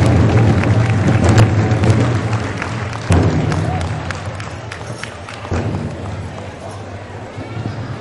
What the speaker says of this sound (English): How about a round of applause for this young man?